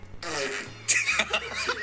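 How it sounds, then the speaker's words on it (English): A recorded fart from Snapchat sounds as a short, low, buzzy blast, followed by a brief snicker and laughter. "My first ever recorded Snapchat fart was August 9th, 2016."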